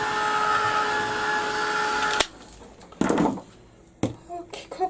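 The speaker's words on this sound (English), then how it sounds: "Okay, so I'm going to give this a quick blast with the heat gun." A heat gun blows hot air in a steady close whine for about two seconds, then stops, followed by a few brief bumps and clatters of handling.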